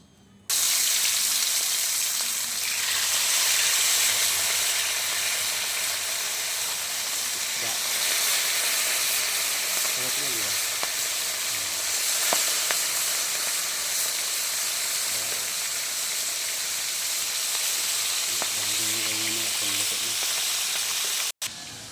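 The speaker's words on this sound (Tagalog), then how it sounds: "Ito na guys yung malunggay kong pinirito." Moringa (malunggay) leaves fry in oil in a pan with a steady, loud sizzling hiss that runs unbroken throughout, with a few faint stirring clinks and some quiet talk underneath.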